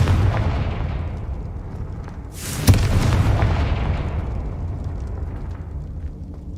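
A Confringo blasting spell in Hogwarts Legacy goes off with a single sharp burst near the middle, followed by a rumbling decay over a low, steady background.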